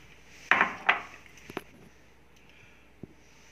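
A few sharp clinks and knocks of a mixer grinder jar being handled in a home kitchen while making mango aamras, two louder clatters followed by softer taps.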